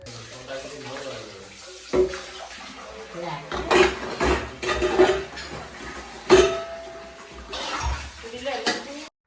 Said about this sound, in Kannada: ಅಡುಗೆ ಮಾಡಿದ್ದೆಲ್ಲ ಪಾತ್ರೆ ಎಲ್ಲ ಇತ್ತು ಅದನ್ನು ತೊಳ್ಕೊತಾ ಇದ್ದೀನಿ